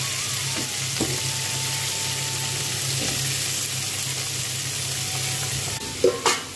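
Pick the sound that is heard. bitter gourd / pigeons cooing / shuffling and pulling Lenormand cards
bitter gourd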